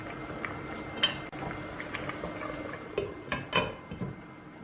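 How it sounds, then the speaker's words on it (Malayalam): Egg biryani mixture coming to a boil in a cooking pot, with soft bubbling and scattered small pops and clinks over a low simmering hiss, fairly quiet and close. "തിളയ്ക്കാൻ തുടങ്ങിയിട്ടുണ്ട്"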